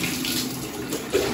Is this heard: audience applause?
no